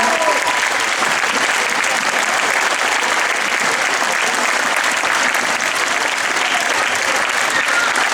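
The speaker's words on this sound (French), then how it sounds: "On les applaudit bien fort." Audience applause at a gymnastics and dance show, dense and loud, sustained and even throughout with no pauses.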